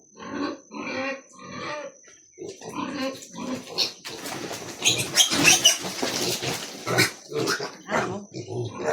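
Piglets squealing loudly and repeatedly in shrill bursts while being given injections, growing more frantic and overlapping midway, with grunts between cries.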